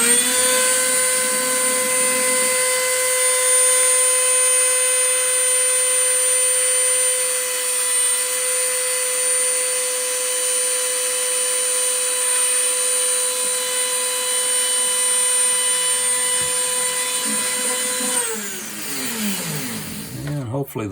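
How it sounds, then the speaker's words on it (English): A Dremel rotary tool enlarges holes in phenolic board inside an electrolytic capacitor. Its high, steady whine is loud and close and runs for about eighteen seconds before the motor winds down. "we'll get out the trusty Dremel tool and turn up your headphones."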